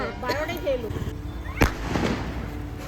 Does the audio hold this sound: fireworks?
yes